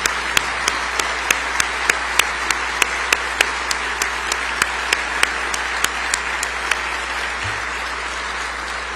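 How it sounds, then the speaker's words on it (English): Sustained applause from a crowd gathered to honor law enforcement officers, steady clapping for about nine seconds with sharp individual claps standing out, loud and continuous before tapering near the end. "let us give you a round of applause"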